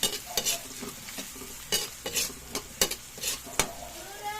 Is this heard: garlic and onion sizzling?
yes